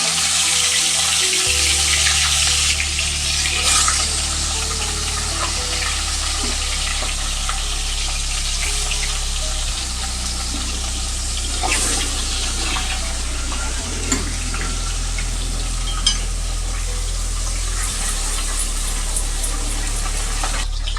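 A fish head fries in hot mustard oil in a kadai, a loud, steady sizzle and crackle over a low hum, with occasional stirring clatters.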